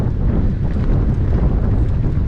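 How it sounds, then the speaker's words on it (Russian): Strong wind at Dzhemete beach in Anapa roars and buffets the microphone, a loud, continuous low rumble with no let-up and no talking. "Такой ветер сильный."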